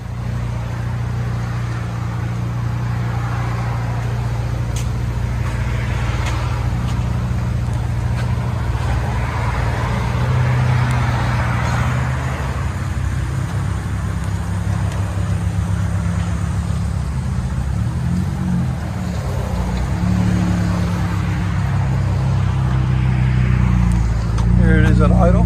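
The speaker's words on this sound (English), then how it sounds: "Dodge Charger V6. There she is. FLOWMASTER Outlaw." A Dodge Charger 3.6L V6 with a Flowmaster Outlaw exhaust idles nearby, a steady deep low drone with a slight burble that holds evenly throughout.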